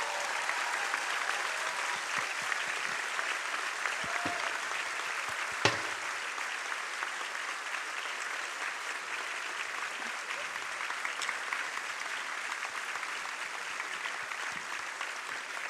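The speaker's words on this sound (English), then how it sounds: "can we all, once again, give a final round of applause to thank Dr." An audience gives a long round of applause to thank Dr. Jane Goodall at a live event in Malaysia, steady dense clapping from a large crowd, fairly distant and even throughout.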